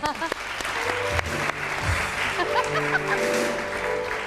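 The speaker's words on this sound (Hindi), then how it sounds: "तालियां इनके मेटाबॉलिज्म के" A studio audience on a Pakistani television show bursts into applause, a loud, dense clatter of many hands that swells and carries on, with brief laughter and voices mixed in.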